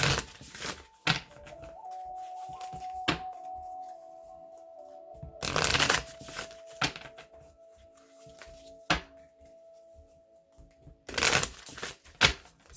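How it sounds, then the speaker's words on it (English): Moonology oracle cards are shuffled by hand in steady riffling bursts close by, with a faint sustained tone running underneath and brief louder flurries between. "I'm going to choose a couple of the Moonology cards now."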